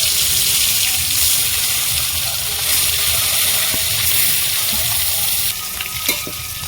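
Parshe fish dropped into hot oil seasoned with a little salt give a steady, loud broadband sizzle and crackle that persists throughout, with a slight drop in intensity near the end and a couple of faint clinks.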